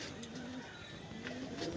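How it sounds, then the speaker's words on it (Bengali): Soft, low cooing from Bondhu breed pigeons in a loft, a steady murmur of repeated coos running continuously at moderate distance with faint background noise and no talking. "বন্ধু ব্রিডের পায়রা, দেখে নাও।"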